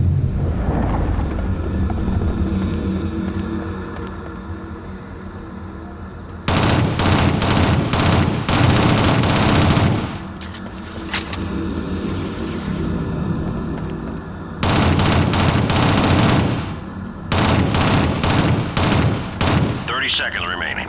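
Sustained bursts of automatic weapon fire repelling attackers in the Shadowrun video game, loud and close, coming in long volleys with short pauses between them over a rumbling background.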